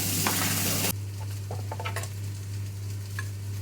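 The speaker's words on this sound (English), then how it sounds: "You can hear the sausages sizzling away." Sausages that have cooked a long time sizzle in a dish with a steady, close hiss, louder for the first second and then settling into a softer crackle with a few faint ticks.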